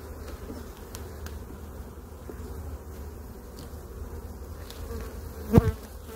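Honeybees drone in a low, steady hum at an open hive during an inspection, a dense near swarm buzz throughout, with a brief louder knock or handling sound near the end.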